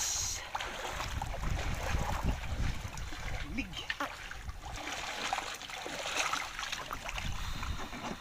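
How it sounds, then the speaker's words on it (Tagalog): Strong wind rushes and buffets across Nauhan Lake, with waves lapping and splashing nearby; a voice murmurs faintly under the noise. "malakas ang hangin, malakas din ang alon sa Nauhan Lake"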